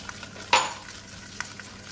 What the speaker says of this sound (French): on va mélanger avec les crêpes dentelles que Christophe a pris un malin plaisir à bien écraser à côté